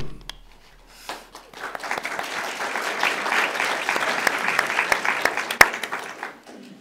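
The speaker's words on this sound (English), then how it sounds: "Brian Walker, please hold the applause down" An audience at a candidate forum for the Idaho Legislature in Coeur d'Alene claps, starting with a few scattered claps that build into moderate applause with sharp individual hand strikes.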